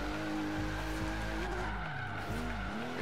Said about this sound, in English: We're four-wheel drifting right now.